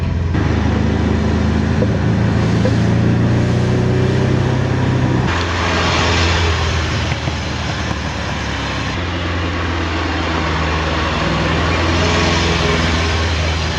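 A restored Ferrari 308 being driven, its engine a steady, moderately loud hum with a shift in tone partway through, running continuously without anyone talking.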